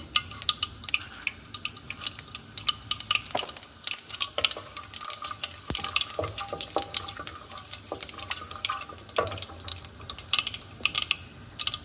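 Mustard seeds and cumin sizzle in three to four tablespoons of hot oil, a steady close crackle with scattered sharp pops and spatters running throughout, no voices over it.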